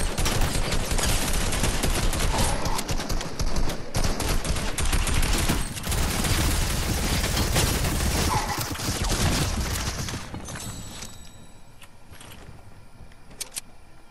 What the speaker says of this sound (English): Sniper shot, sniper shot